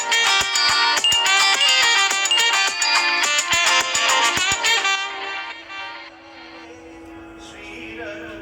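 A bright electronic phone ringtone plays a quick repeating melody for about five seconds, then fades into softer tones as the call is put through to a palace.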